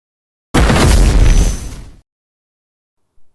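An animated beam clash ends in a loud, close explosion: a sudden roaring blast that rumbles for about a second and a half, then cuts off abruptly into silence.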